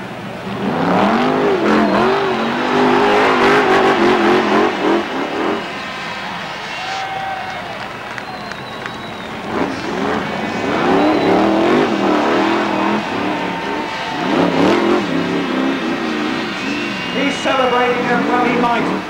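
Brisca Formula One stock cars race at Bradford stadium, engines roaring and revving loudly as they pass, with a crowd behind and a commentator talking over the noise throughout.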